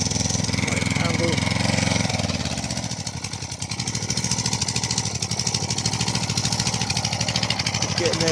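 An Agria walk-behind lawn mower engine runs close by with a rapid, rattling, pulsing chug that dips and recovers, while someone talks over it.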